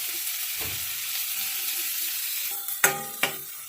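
Finely chopped onion sautés in a little butter with a soft, steady sizzle, then a spatula knocks sharply against the pan twice near the end.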